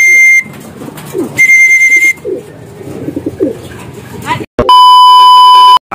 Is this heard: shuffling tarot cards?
no